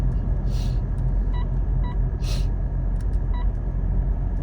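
A 2022 Mitsubishi Montero GLX with a manual transmission cruising slowly, its low engine rumble and steady road noise filling the cabin, with a few soft chimes and brief clicks on top.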